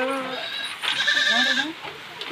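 Goat bleating on a farm during strong wind, a few wavering harmonic calls heard close over a windy background, with a second bleat following after a short pause.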